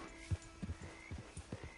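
Horse hooves clip-clopping in a PS4 video game, a few soft irregular steps at moderate distance over quiet ambient background, with no talk.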